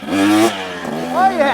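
A KTM 300XC TBI dirt bike revs hard as the rider lifts it into a wheelie over an obstacle on a trail ride. The engine gives a short, close burst of rising and falling revs.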